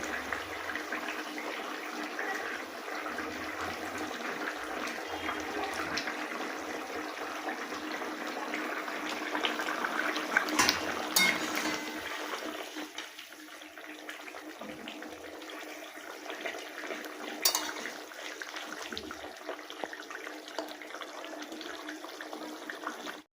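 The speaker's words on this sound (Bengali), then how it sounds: "এবার আমি ফুটন্ত ঝোলের মধ্যে ভেজে রাখা মাছগুলো দিয়ে দেবো" Fried katla fish pieces go into a boiling curry gravy spiced with chilli, cumin and whole garam masala, giving a steady close bubbling hiss that eases partway through and carries on with no talking.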